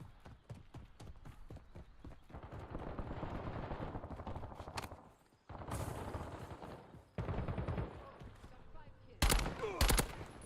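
Gunfire in the video game ARC Raiders: bursts of rapid shots with sharp, loud cracks near the end, heard among clattering footsteps and game noise, with no talk.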